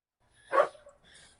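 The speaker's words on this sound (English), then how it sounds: "Sounds like your dog's a little angry there." A dog gives one short, sharp bark with a growling edge, followed by a quieter yip and faint rustling, all at moderate distance in an otherwise quiet room.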